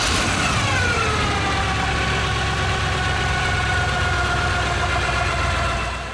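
A 1928 Ford Roadster, converted from a coupe with its top removed, idles on a 350 engine through a modified exhaust, giving a steady, loud, continuous rumble with outdoor background noise and no pauses.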